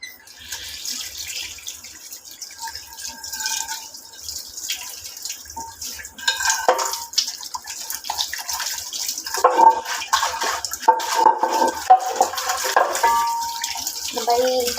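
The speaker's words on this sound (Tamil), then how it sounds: "நம்ம தண்ணி போட்டு எல்லாமே கழுவிடலாம்." Tap water runs while dishes are washed at a sink, splashing and trickling steadily at close range, growing busier in the second half with some clinks, under faint background noise.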